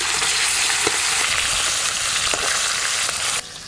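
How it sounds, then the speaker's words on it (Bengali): Fish frying in hot mustard oil in a village kitchen, a continuous dense sizzle with a few sharper pops and spits, close and steady throughout without any voices. "মাছগুলো ভেজে নেব।"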